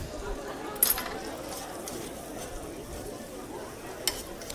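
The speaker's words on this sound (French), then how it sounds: "L'huître, tu vas la faire poêler avec du beurre ?" Oysters sizzle in butter in a frying pan: a soft, steady hiss with occasional light clinks of a utensil against the pan, close and quiet.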